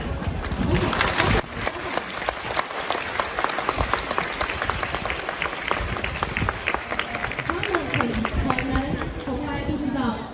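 An audience applauds warmly at a flash mob show in a hotel in Kaohsiung, Taiwan. Dense, steady clapping and crowd noise sustain loudly and close throughout, with some cheering mixed in.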